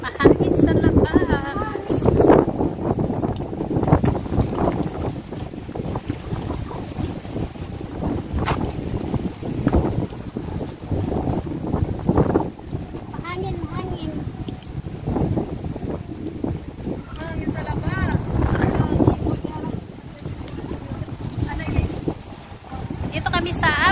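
Strong wind gusts outdoors, buffeting the microphone with rumbling roars while voices talk intermittently underneath.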